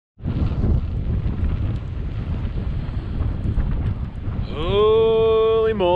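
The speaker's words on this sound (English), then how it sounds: "Wind advisory." Strong wind buffeting the microphone out on a frozen lake while ice fishing, loud continuous roar close up, then a tonal whine rising near the end.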